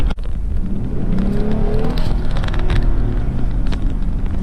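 A 2020 Jeep Gladiator's engine revs hard under acceleration with wheel spin, a loud, close, continuous growl that climbs in pitch and holds steady with no talking over it.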